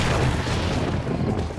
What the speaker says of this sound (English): getting some explosions off down there